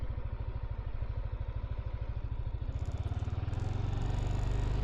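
Close motorcycle engine idling with a steady, rapid chugging pulse that grows louder and fuller toward the end, with no talking.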